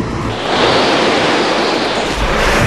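Loud, continuous roaring wind with a broad rushing noise, like a violent storm gust blowing hard against the microphone without pause.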